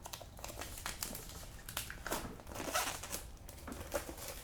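Plastic wrapping is torn and crinkled off a Peanuts Surprise Slides board game box, a quiet, close run of irregular crackling and rustling bursts with no voices.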